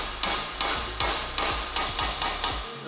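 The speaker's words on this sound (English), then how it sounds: "I'm hammering this fantastic powder coat, because that's all going." A hammer strikes powder-coated suspension parts removed from a Honda Civic EK9 Type R during a strip-down, about eight loud, close metallic blows in a steady, even rhythm with no talking.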